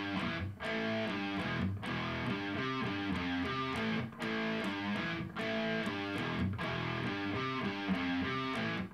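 Distorted electric guitar plays a riff with power chords at full speed, dense chords in a driving rhythm broken by several short gaps, moderately loud and alone.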